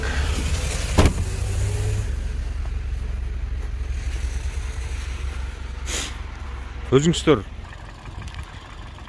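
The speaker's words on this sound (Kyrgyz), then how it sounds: "мотордун иштешин көрүп атасыңар достор" The 1.6-litre engine of a 2006 Toyota Corolla with a manual gearbox idles in a steady, close, low hum while someone talks over it, with a few short knocks and clicks.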